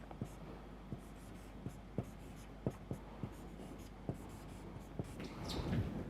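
Pen writing out a matrix equation on paper, faint, close scratches and light taps in an irregular rhythm over a quiet background, with no talk.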